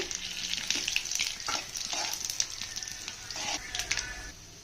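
Crushed garlic and dry red chillies fry in hot oil for toor dal rasam, giving a steady close sizzle with the scrape of stirring throughout.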